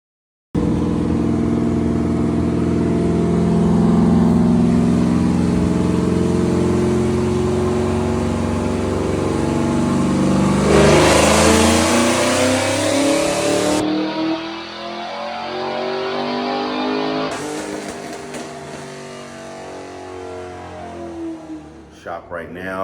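A 5th-gen Chevrolet Camaro SS with a supercharged LSA V8, running flex fuel with ID1050x injectors, roars on a dyno in a shop, climbing in pitch to a loud peak and then falling back, with people talking over it.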